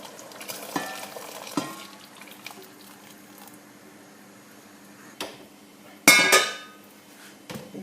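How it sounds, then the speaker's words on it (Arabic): Tunisian mloukhia with beef stirred in a pot on the stove: soft scraping and occasional clinks of the utensil against the pot, with a louder scraping burst near the end over a faint background. "نقعد نحركها حتى لين ترجع تغلي."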